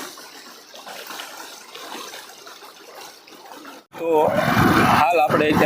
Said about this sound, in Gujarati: એક સરસ મજાનો નાનો એવો બ્રિજ પણ બનાવેલો છે અને બ્રિજની ઉપરથી પાણી જઈ રહ્યું છે